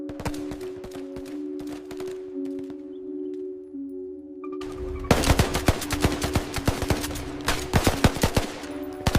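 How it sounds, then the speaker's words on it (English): AI-recreated Vietnam War jungle combat: rapid bursts of automatic gunfire crackle over a steady hum, starting sparse and far, then turning loud and dense with sharp repeated shots. "The jungle often spoke in bursts of gunfire."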